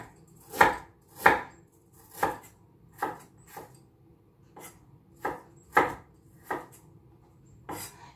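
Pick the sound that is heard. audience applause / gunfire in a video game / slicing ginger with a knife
slicing ginger with a knife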